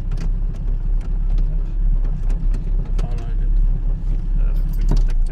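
Ignition key turned in a Citroën Traction 11 BL, with faint key jangling and clicks over a steady low idle rumble, near and moderately loud, a few light taps scattered through.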